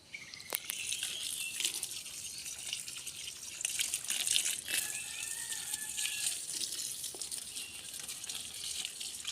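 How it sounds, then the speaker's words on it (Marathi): Water from a garden hose pipe, fed by a borewell, sprays steadily onto plants outside a house, a continuous hissing gush that swells and eases at close range with no talking. "झाडांना आता मी पाणी पायपाने घालणार आहे"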